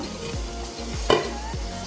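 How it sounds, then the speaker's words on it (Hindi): Kadhi masala frying in a pot, with a steady sizzle under repeated low scraping stirs about every half second and a brief louder clatter midway; no voices. "मसाला जो है बहुत अच्छी तरीके से भुन चुका है, फ्राई हो चुका है"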